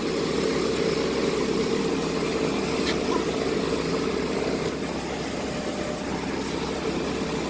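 An ASV RT120 compact track loader runs with its A/C fans spinning, giving a steady, even engine and fan drone with no noticeable change in level.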